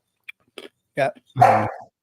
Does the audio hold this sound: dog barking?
yes